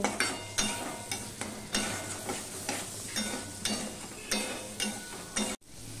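Ginger and slit green chillies fry with turmeric in a pan, a steady sizzle broken by regular scraping strokes of a spoon stirring, close and alone.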